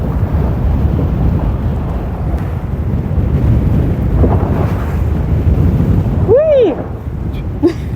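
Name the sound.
cold breeze blowing on the Pacific coast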